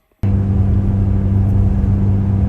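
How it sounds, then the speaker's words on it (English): A Ferrari F430 engine fires up abruptly after a moment of silence and settles into a loud, steady low idle rumble that continues close and alone to the end. "as soon as I started the car, it actually went away and came onto my clock"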